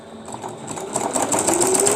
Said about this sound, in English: I'd rather have too much stitching right now.